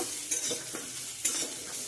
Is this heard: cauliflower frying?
yes